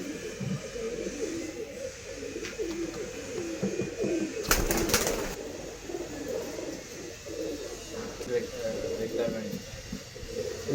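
Girebaaz pigeons, including a rekhadar male, cooing in low rolling calls close by while people talk over them, with one short loud rustling burst midway.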